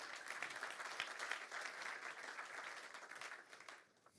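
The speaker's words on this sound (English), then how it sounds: "a big round of applause again for you" Audience applause following a talk at an MIT symposium on next-generation mobility, a steady wash of many hands clapping at moderate distance that thins out near the end.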